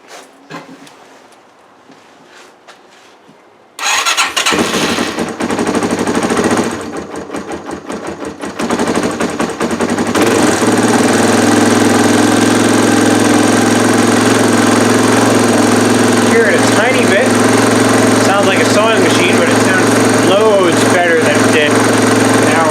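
Quiet mechanical cranking, then a Yamaha XT225 motorcycle engine catches and runs loud and close, dipping briefly before settling into a steady, rattling, choke-heavy idle.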